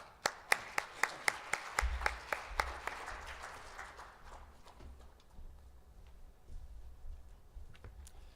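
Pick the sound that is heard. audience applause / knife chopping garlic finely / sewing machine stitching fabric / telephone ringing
audience applause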